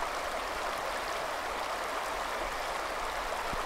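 A river flows through a pristine canyon, a steady broadband rush of moving water heard alone and unbroken, moderately distant and even in level.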